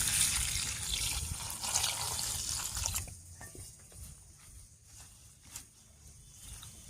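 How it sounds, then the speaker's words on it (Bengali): Amrul greens being washed under running tap water, a steady faint splash that thins after a few seconds to softer trickling and occasional drips, with no voices. "এবার পরিষ্কার করে ধুয়ে নিচ্ছি।"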